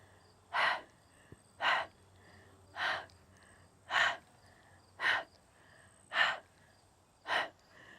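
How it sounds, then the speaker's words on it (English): Heavy exercise breathing during a mat Pilates core workout: seven loud, evenly spaced breaths, about one a second, each a short forceful exhale close to the microphone, with quiet between them. "Now that breathing is super annoying."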